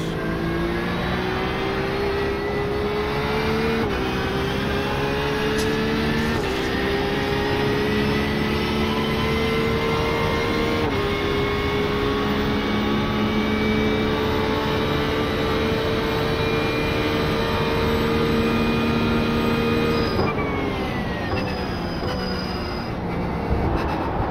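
Race car engine in a racing video game at Spa at sunset, heavy with a full tank of fuel: a loud, steady, continuous drone with rising pitch through the gears, broken by brief shift dips.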